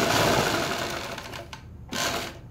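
Sewing machine stitching the collar of a kurta, a steady dense whirr that runs continuously, easing off briefly near the end before a short restart, with no talk over it.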